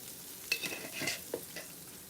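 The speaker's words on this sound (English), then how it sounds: "My onions are burning. I'm gonna put some butter in here." Onions frying over high heat in a pan as butter is added, a steady close sizzle with a few sharper stirring scrapes and spatters.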